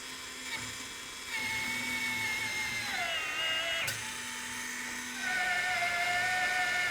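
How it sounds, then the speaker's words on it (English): Electric drill whines at high speed, its pitch shifting as the bit bites into steel on a log arch trailer build, with a brief pause and restart. "we'll pop some holes in here with the drill"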